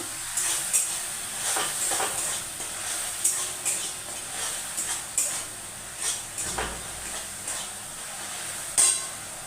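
Ginger garlic paste stirred in a frying pan for a Bengali bottle gourd and prawn dish: a soft background sizzle with intermittent scraping clicks of a spatula against the pan, fairly quiet.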